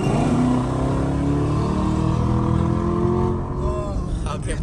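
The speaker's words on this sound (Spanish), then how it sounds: "Se va en segundos este carro, ¿eh?" Car accelerating away in a race, a loud, close engine roaring and revving steadily with rising pitch, then fading slightly as it pulls off, with voices talking over it.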